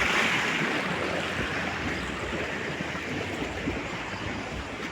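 Severe flood water rushes in a continuous loud roar with a wind-like wash, steady and close, with no voices over it.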